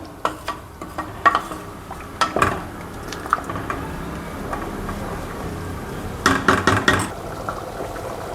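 A spoon stirs rice with ivy gourd masala bhaat in a pot, making close, wet scraping and clinking strokes in irregular bursts, with a busier cluster of stirring near the end.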